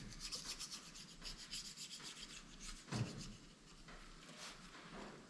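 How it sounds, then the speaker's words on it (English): A flat razor blade scrapes gasket residue off the deck surface of a 5.3L engine block, with close, repeated rasping strokes and one sharper scrape near the middle. "use a flat blade, another razor blade, and we're just gonna go over this like we did before"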